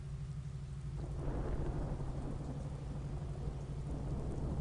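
Rain and rumbling thunder in the Star Wars Galaxies game, a steady wash of rainfall with low thunder building after the first second and holding loud and continuous.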